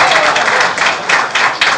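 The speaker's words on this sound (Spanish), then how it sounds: "Un aplauso para ellos" A crowd applauding at a talk by a volunteer of Chile's 3rd fire company of Ñuñoa, a dense, loud, steady clapping that lasts the whole short moment without pause.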